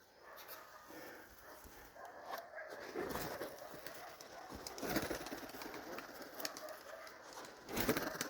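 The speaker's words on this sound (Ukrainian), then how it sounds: "Ну, вроді голубок." Soft cooing of a young pigeon outdoors, repeated low calls over a steady background hiss, fairly faint and distant.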